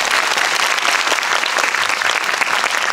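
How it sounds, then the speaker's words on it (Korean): A cinema audience at a film screening and Q&A for the musical film Hero claps for the cast, a loud, close, continuous wash of applause. "다시 한번 박수를 부탁드립니다"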